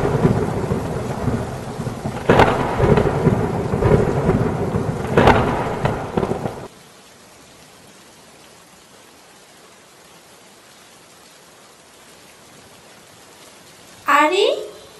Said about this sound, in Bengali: এবং তারপর দিন প্রবল বেগে ঝড় বৃষ্টি শুরু হয়।